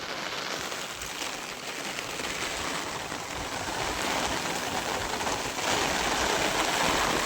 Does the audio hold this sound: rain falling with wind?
yes